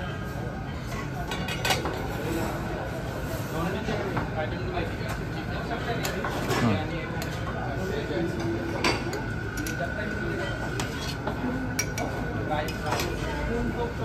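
Plates and bowls clink steadily at a birthday buffet, light ceramic knocks scattered through a busy room while people talk over them.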